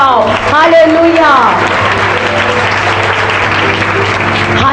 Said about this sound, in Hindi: यीशु के लिए जोर से ताली बजाओ।